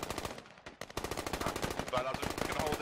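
Gunfire rattles through a Squad video game firefight on the map Fools Road, with dense rapid automatic bursts and overlapping shots that sound close and loud.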